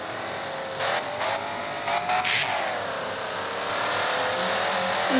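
An engine revs up as a car accelerates in the Driving Empire video game, a rising whine that climbs steadily, with brief louder bursts and a sharp squeal near the middle.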